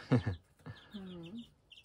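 Young chickens give a few short clucking and chirping calls, close and brief, separated by quiet gaps.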